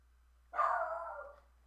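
A single dog's bark, a short drawn-out woof heard alone against a quiet low hum, fairly faint and slightly distant, during a card game session.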